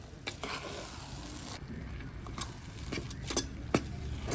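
An egg rice mixture is stirred in a hot pan, with repeated scraping strokes over a steady sizzling hiss, close and moderately quiet.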